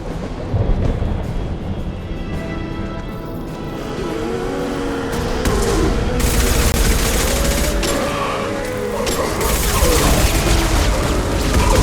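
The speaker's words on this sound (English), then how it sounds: "Firing a high-impact shot!" Loud, dense game combat from Mass Effect Legendary Edition, with a burst of heavy high-impact weapon fire and booms building from about six seconds amid a steady roar, under faint voices and music.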